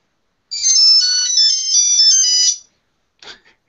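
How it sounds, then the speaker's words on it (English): An old Nokia mobile phone rings with its classic ringtone, a bright, loud electronic melody playing for about two seconds up close, followed by a brief faint sound after it stops. "And yes, I have the old Nokia tone."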